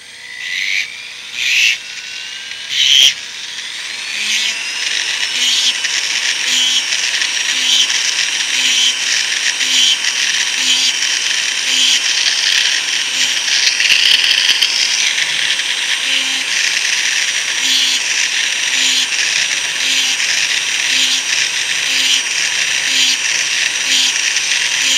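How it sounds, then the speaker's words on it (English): A flex shaft rotary tool files the edge of a silver Morgan Dollar coin ring, giving a continuous high whine that holds steady for most of the stretch after a few short starts at the beginning. "we're going to be using a flex shaft tool"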